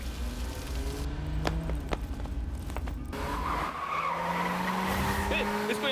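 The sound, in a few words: car speeding away with tires skidding, from a film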